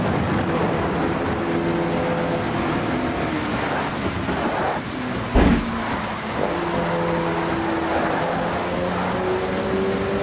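A Volkswagen Polo TSI racing car in the Automobilista 2 sim drones steadily up close, its engine tone shifting through gears, with one sharp thump partway through and a voice briefly speaking.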